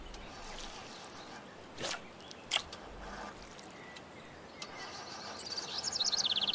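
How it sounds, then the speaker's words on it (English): Bird calls from the fishing game Russian Fishing 4 sound over a quiet ambient background, with scattered chirps that grow into a rapid, high, twittering burst near the end. Nobody talks. "And then all of a sudden the bird calls really cranked up."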